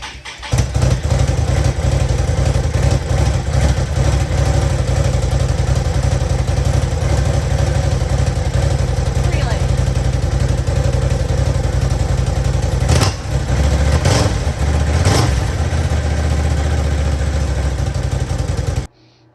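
A Can-Am Outlander G2 ATV on its stock factory exhaust idles steadily and close by, a continuous low mechanical rumble with a few brief blips of throttle near the end before it cuts off.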